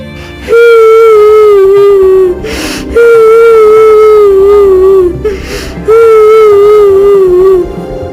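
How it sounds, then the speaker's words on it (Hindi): Someone cries in a forest in a Hindi cartoon moral story, three long wailing sobs with falling pitch, loud and close, separated by short breathy gasps between them. "ये रोने की आवाज किसकी है?"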